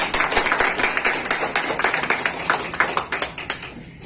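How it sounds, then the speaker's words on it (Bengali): An audience applauds at a branch office gathering in North 24 Parganas, a dense, steady patter of many hands clapping loudly and continuously throughout. "জোরে হাততালি হোক"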